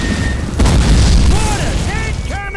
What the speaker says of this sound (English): The Germans are across the streets! Mortars! Incoming!